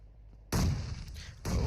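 A grenade explodes after being thrown through a hut window in a competitive shooter game, with a sudden loud boom, a rumbling decay, then a second heavy blast close by.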